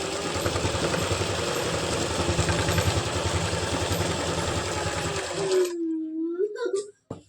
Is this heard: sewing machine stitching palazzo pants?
yes